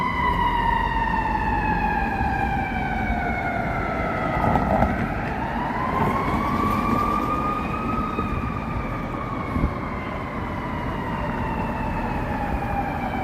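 Wailing emergency vehicle sirens sweep up and down on a busy Chicago street near Michigan Avenue in River North, loud and continuous over steady traffic rumble.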